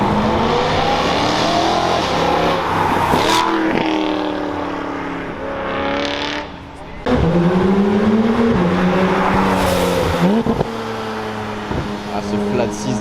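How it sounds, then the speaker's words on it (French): A Porsche GT3's flat-six engine revs hard and climbs through rising pitch sweeps as it passes close and loud, with other car noise at a motoring gathering and people talking over it. "Ah ce flat 6 de la GT3."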